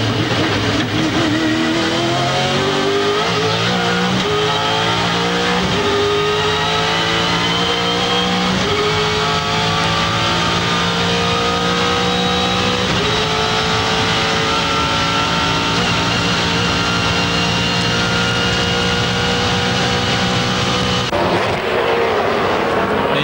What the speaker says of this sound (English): And we'll take some telemetry on board the Castrol Ford.